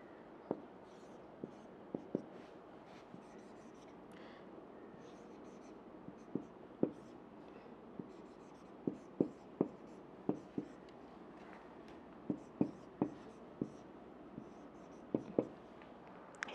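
A pen scratches across paper in short bursts, writing out an economics formula, with light taps and strokes at an irregular pace and quiet room tone between them.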